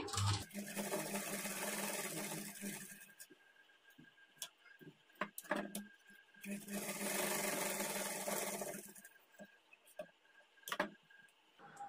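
A sewing machine runs two long stitching bursts along a blouse seam, each lasting about three seconds, separated by quieter handling clicks and ticks, with no talking.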